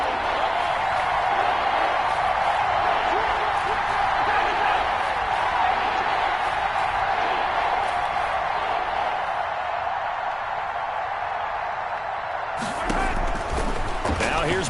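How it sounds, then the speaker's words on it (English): Football stadium crowd in a video game roaring steadily ahead of a big third down, a dense, continuous wash of cheering that swells near the end, with a commentator talking over it. "the crowd getting into it as we come up on a big 3rd down"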